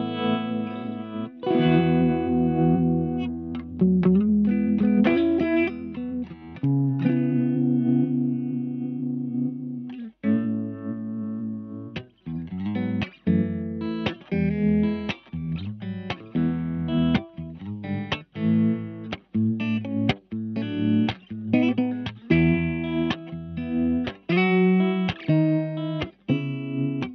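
A Mozztronics VB-2 Duo-Vibe guitar effects pedal colors a guitar with a wobbly, pulsing vibe, first as sustained chords and then as choppy strummed and picked phrases with short gaps, loud and upfront with no talk.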